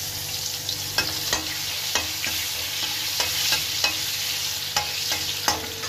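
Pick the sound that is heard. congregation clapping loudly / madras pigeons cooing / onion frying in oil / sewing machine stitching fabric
onion frying in oil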